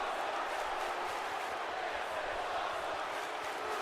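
Dense crowd cheering and roaring from a WWE 2K19 wrestling main event, a continuous wash of arena noise at steady loudness throughout.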